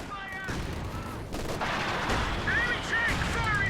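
Tulip rocket barrage in Company of Heroes 2, a WWII strategy game: dense, continuous battle noise of crackling rapid blasts, with thin whistling whines rising over the din.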